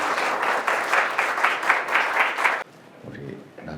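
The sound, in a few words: applause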